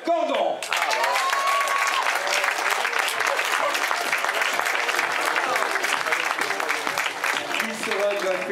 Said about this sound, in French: On va raccompagner par des applaudissements